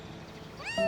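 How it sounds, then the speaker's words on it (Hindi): A cat gives a single rising meow, close and clear, at the end of a brief moment of quiet room tone. "ऐ बिल्ली"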